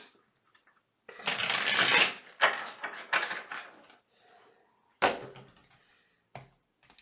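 Tarot cards being shuffled in a close, loud riffling burst, followed by several soft card slaps and flicks as cards are drawn, with no talking.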